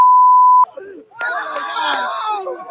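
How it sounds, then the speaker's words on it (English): A steady loud censor beep covers a curse word, cutting off abruptly, then excited shouting and crowd screams from a cliff jump scene follow. "The beeps, of course, are the curse words."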